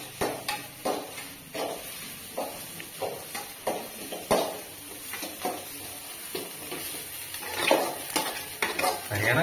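Eggs are stir-fried in a pan in a home kitchen for chicken noodles, with soft sizzling under repeated scraping and clinking strokes of a utensil against the pan, irregular and close.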